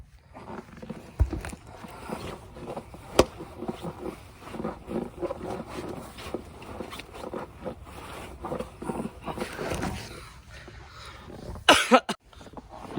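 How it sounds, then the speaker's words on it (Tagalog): Outdoors in the Canadian winter cold, with snow about, a person coughs several times, each cough short and close, among other nearby noises and shuffling. "Ang lamig, inuubo na ako kalalamig."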